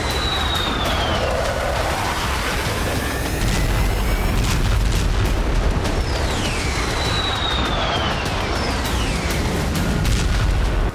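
Su-25 jets drop dummy nuclear bombs in Russian bombing practice, a continuous heavy rumble of booms with falling whistling tones sweeping over it, loud and unbroken.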